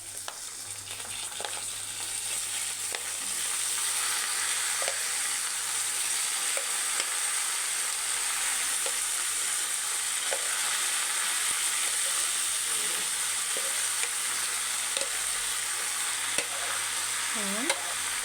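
Washed rice is stirred into browned vermicelli frying in a pot for Egyptian koshari, giving a steady loud sizzle and hiss with occasional scraping stirs and no talking.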